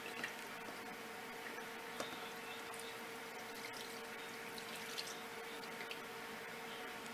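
Mulberry juice being poured from a container, a steady liquid trickle with faint splashes and a few small clinks, fairly quiet and even throughout with no talking.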